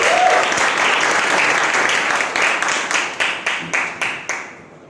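Audience applause at a juice product launch, a full steady round of clapping that thins into a few separate bursts and dies away near the end.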